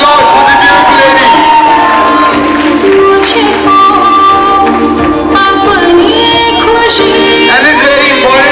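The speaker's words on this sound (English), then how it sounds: "Can we have a round of applause for the beautiful lady?" Crowd cheering and whoops for a model in a sari at a Telugu handloom fashion show, loud and continuous over background music, with shouted voices mixed in.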